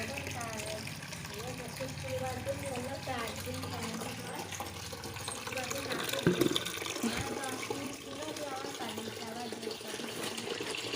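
Water runs from a tap in a steady splashing stream, fairly close, with a person talking over it and a brief knock midway.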